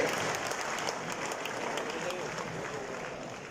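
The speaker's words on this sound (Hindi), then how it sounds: "अपनी जिम्मेदारी पर भरपूर तालियों का इस्तकबाल कीजिए।" Large audience at a stage event giving sustained, loud applause, a thick wash of clapping and crowd noise that continues evenly throughout.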